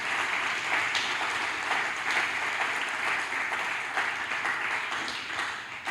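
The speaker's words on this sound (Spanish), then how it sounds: "Ahí va el aplauso para el buen pastor" Church congregation applauding the Good Shepherd during a sermon, a dense, even stretch of clapping that carries on steadily with no voices over it.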